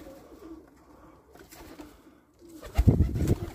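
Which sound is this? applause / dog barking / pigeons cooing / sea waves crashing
pigeons cooing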